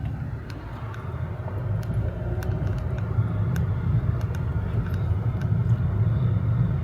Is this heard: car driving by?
yes